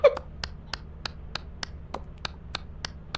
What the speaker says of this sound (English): I've got the clapping.